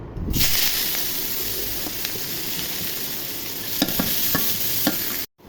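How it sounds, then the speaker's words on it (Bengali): Chopped onion fries in hot oil with a loud close sizzle, broken by a few light stirring clicks, starting and stopping abruptly. "তেল গরম হয়ে গেছে, এখন পেঁয়াজ কুচি দিয়ে দিব।"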